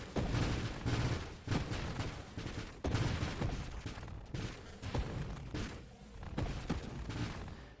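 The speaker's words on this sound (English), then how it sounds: "Oh, lots of mine explosions." A dense barrage of booming mine explosions and rumbling blasts in the video game Nova Drift, loud and continuous, with rapid overlapping bursts.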